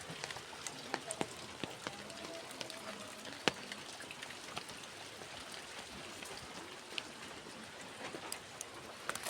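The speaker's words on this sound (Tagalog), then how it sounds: "Kasi umuulan." Steady rain falls outdoors, a faint, even hiss with scattered nearby drips and taps standing out now and then.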